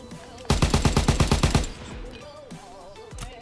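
Automatic weapon fire on a firing range in a WW2 video game, a single burst of about a dozen sharp, evenly spaced shots lasting a second, followed by quieter game sounds.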